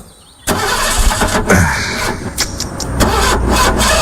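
An old car's engine cranks repeatedly and fails to catch, a loud, continuous grinding starter whirr that surges and dips for several seconds, close by with no voices.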